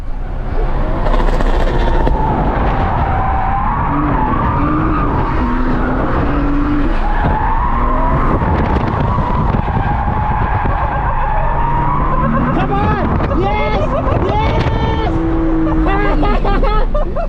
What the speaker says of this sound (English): we're going to go out and drift.